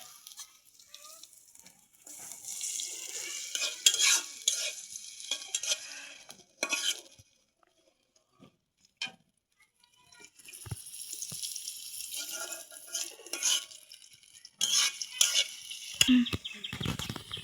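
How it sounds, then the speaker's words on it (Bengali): Onions fry in a pan before a cabbage dish with fish is cooked, with intermittent scraping stir strokes and soft sizzling bursts separated by quiet pauses. "আমার পেঁয়াজটা ভাজা হয়েছে"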